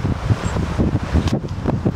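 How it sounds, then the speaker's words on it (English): Gusty wind blowing outdoors on an autumn day, loud rumbling buffets against the microphone with rustling, steady and close throughout. "I feel it is windy over here though."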